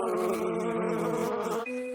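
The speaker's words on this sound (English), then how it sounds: "the bees can continue to fly, providing 24-hour protection" Bees buzz near beehive fences, giving a close, steady, dense hum that stays level and then quiets slightly at the end.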